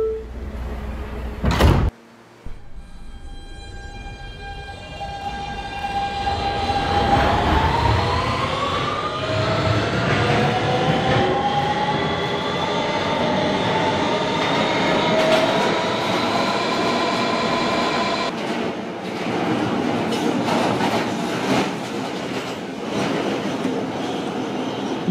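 A Kawasaki R160B subway train on a Manhattan-bound Q local in a Roblox game starts with a brief door thump, then accelerates with rising motor whine tones over steady rumble, loud and close throughout.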